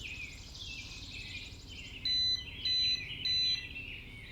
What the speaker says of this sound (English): It's gonna beep like this till it's connected.